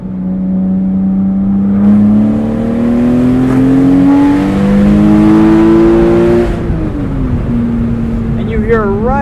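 A Porsche Boxster's engine climbs through the revs in rising sweeps, easing back between shifts, heard from inside the car while people talk over it.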